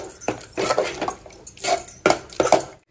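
A ladle scrapes and knocks against a pot as jaggery is stirred into sweet pongal, giving a run of close, irregular clinks and scrapes over a little under three seconds.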